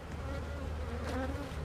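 Honey bees from a rapidly growing backyard hive buzz close and steady, a dense droning hum with no voices.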